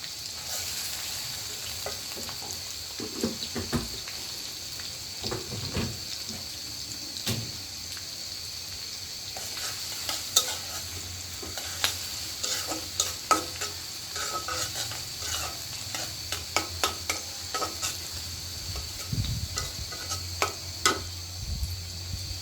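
Bay leaves fry in hot oil for a potato curry, a steady soft sizzle with a spatula stirring and scraping the pan in irregular clicks, close and quiet with no talking.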